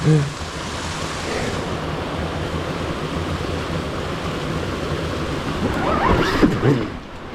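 A Stark Varg electric enduro motorcycle rides on hard enduro terrain, a steady broadband rush and whine from the ride that swells near the end with a louder burst of throttle.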